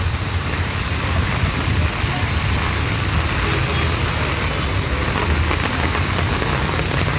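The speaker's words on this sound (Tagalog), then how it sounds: "talagang napakalakas po ng buhos ng ulan" Heavy rain pours steadily over Pasig City, a dense, unbroken hiss that stays loud throughout, with a low rumble of road traffic mixed in beneath it.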